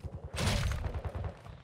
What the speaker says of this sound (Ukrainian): Хто стріляє там?